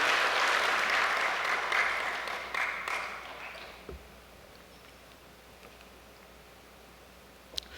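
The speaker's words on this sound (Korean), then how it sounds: "우리 천재인 참모님께 감사의 박수를 한번 올려주시면 고맙겠습니다" Applause from an audience at an indoor event, a dense patter of many hands for about three seconds that thins and fades into quiet room tone, with a single faint click near the end.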